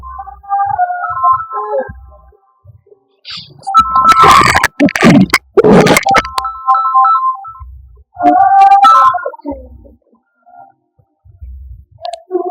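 A phone ringtone plays a bright repeating melody in several bursts, broken up by louder rustling and clattering noises in between.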